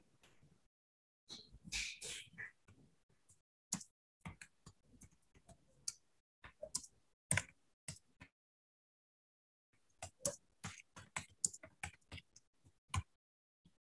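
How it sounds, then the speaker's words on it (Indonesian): Quiet clicks of a computer keyboard arrive in short irregular bursts of keystrokes with brief pauses, as someone types into an online chat room during a lecture session. "Saya mengetik di ruang chat itu, ya."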